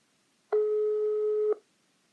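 A single steady telephone line tone lasting about one second, clean and alone against silence, as a regular phone call connects.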